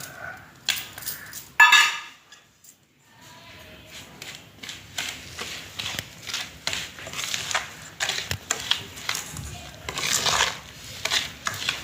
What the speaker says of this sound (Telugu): ఇగో ఇప్పుడు కారం నూనెలో కలుపుతాను ఉప్పు ఉప్పు కలుపుతాను